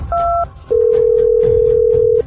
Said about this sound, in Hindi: दोबारा फोन मिला के देखता हूँ